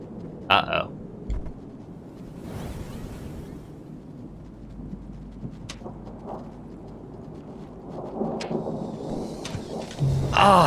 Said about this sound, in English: Might run into the rain that way.